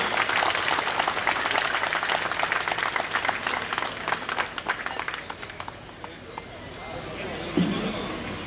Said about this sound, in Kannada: ಈಗ ನೀವು ಜೋರ ಚಪ್ಪಾಳೆ ಬರಲಿ